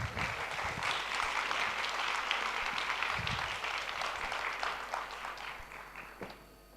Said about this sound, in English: maybe we give them a small applause